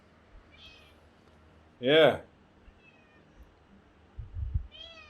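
A cat named Spanner meows once, close and fairly loud, in a garage where a Ducati Hypermotard 939 is being worked on, with faint background noise and a brief word of talk.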